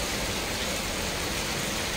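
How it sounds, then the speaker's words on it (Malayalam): Heavy rain falls in a dense, even hiss that stays loud and constant throughout, with no talking. "ഇവിടെ നല്ല മഴയാണ്"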